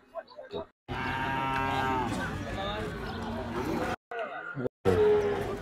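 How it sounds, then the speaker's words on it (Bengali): A cow bellows in long, loud, drawn-out moos at a busy Hazratpur cattle market ahead of Eid, with brief pauses between calls and crowd chatter in the background. "ওই যে একটা গরু আসতেছে দৌড়াইতে"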